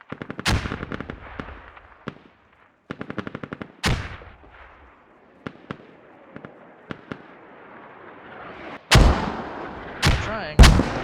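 Mortar and gunfire in the video game Squad: sharp, loud blasts and bursts of rapid shots spread irregularly, with quieter crackle and distant reports between, and a few heavy impacts near the end.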